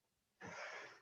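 A single sharp sneeze bursts out close and loud after a quiet moment, its hissy breath trailing off over the following half second during an online video call.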